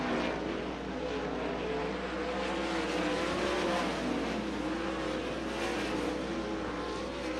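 Sprint car at Attica Raceway Park during hot laps, its engine a steady, moderately distant drone that rises and fades slightly as it circles the track, without talk.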